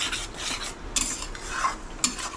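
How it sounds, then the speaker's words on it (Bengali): A spice paste (masala) is stirred and sautéed in a pan for a bottle gourd kofta curry, with steady soft scraping and frying hiss broken by two sharp utensil scrapes against the pan. "দিয়ে মশলাটা কষতে থাকবেন"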